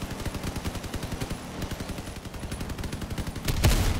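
In a naval battle video game, cannon fire comes as rapid, evenly spaced loud booms, and a heavier blast lands near the end.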